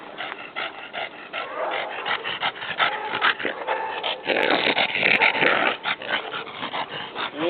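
A dog pants and huffs close by in rapid, uneven breaths, with a few whimpering and growling sounds mixed in. There is no talking over it.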